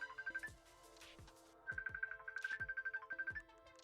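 A mobile phone rings nearby, an electronic ringtone repeating in two bursts of pulsing tones with a short gap between them, fairly faint and alone.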